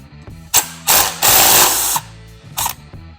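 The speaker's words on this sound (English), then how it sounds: "we're going to be removing the original flywheel nut from the flywheel" Power tool bursts spin off the flywheel nut on a Suzuki RM250 motorcycle engine, several loud whirring pulses of differing length with brief pauses between them, close up and alone.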